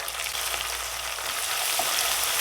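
Chopped onion frying with ginger, garlic and coriander spice pastes for a homemade chicken jal roast, giving a close, steady, dense sizzle that holds at an even loudness throughout, with no voices.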